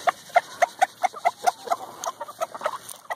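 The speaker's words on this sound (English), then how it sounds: "Let's go see what the chickens think." Hens on a small farm cluck in a quick series of close, loud calls as they run toward daytime treats. The clucks come in an uneven rhythm with no talking over them.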